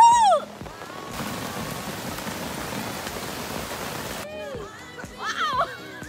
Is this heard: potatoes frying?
no